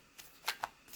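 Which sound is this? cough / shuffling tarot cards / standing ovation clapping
shuffling tarot cards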